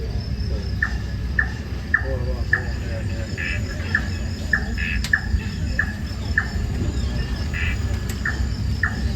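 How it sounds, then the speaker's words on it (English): A chorus of crickets in a forest at night at the Singapore Night Safari, steady rhythmic chirps repeating about every half second over a dense insect hum, with occasional bird calls. "All set against a chorus of crickets."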